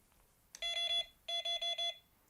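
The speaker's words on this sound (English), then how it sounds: "if I turn the alarm on" A Delkim fishing bite alarm sounds two bursts of rapid electronic beeps, three or four tones each, close and clear against a quiet background.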